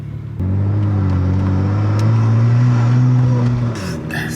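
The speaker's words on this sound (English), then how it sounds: "by now you guys can tell by the intake sounds, the turbos on this car are not stock" A BMW E92 335i engine with aftermarket turbos revs hard and holds a deep, steady droning pitch, with turbo intake whoosh and whistle rising over it, loud and close.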